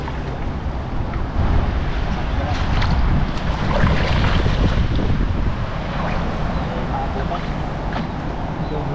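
Strong wind buffets the microphone in a steady roar, swelling midway, with faint splashing water beneath, while out fishing.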